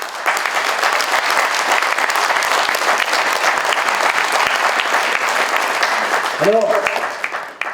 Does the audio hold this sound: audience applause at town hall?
yes